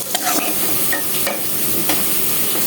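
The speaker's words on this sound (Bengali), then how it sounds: "তেলটা গরম হয়েছে। আমি এই যে এখানে 7-8টা মিডিয়াম সাইজের পেঁয়াজ কেটে রেখেছি, সেটা দিয়ে দিলাম।" Sliced onions, seven or eight medium ones, fry in hot oil and are stirred in the pan, giving a steady close sizzle broken by a few scraping strokes, with no talking.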